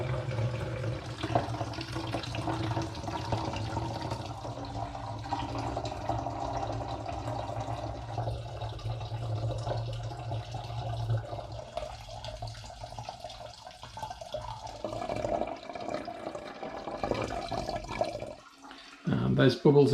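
Toffee apple hard cider, thick and syrupy with sludgy sediment, is siphoned from a glass demijohn through a tube. It makes a close, steady watery trickle and gurgle, with a sharper sputter near the end.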